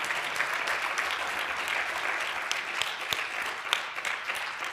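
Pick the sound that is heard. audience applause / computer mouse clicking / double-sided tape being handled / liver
audience applause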